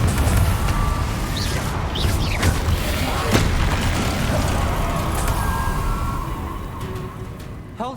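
Spell explosions in Hogwarts Legacy, a Confringo fire blast among them, bursting as dense booming crashes with a brief sharp crack midway over a continuous roar of game effects, while a voice calls out spell names.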